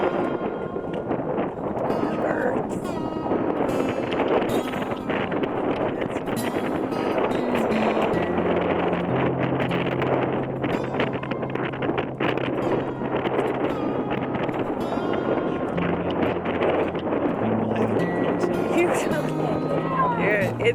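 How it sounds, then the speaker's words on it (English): Strong wind blows hard during a dust storm, a continuous roaring rush buffeting the microphone, with a low drone underneath and a person talking through much of it. "this video is going to be loud because the wind's"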